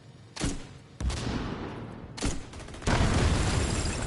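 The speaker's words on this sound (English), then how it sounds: "Explosion!" Gunfire and explosions in the shooter game The Division 2, several sharp booming blasts at irregular intervals with a rumbling tail, the last one starting a heavier, sustained burst.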